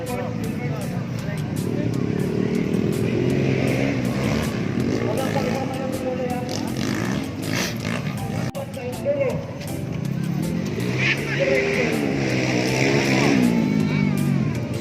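Motorcycles racing along a muddy road, engines droning and revving continuously, with people talking and shouting over the noise.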